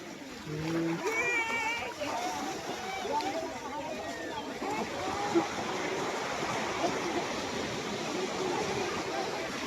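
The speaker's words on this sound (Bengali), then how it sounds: "দেখুন এই ঢেউ আসছে" Sea waves wash and break in a continuous rushing roar at a beach in Old Digha, with people bathing, talking and calling out faintly over the surf.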